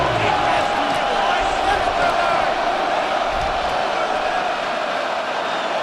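Stadium crowd roar from Madden NFL 26 during an Eagles versus Ravens game on third down, a steady loud wash of cheering throughout with play-by-play commentary talking over it.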